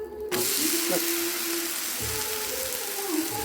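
An uttapam frying on a hot pan gives a dense, steady hiss of sizzling oil that starts abruptly and holds evenly, close and fairly loud, with a faint tonal hum underneath.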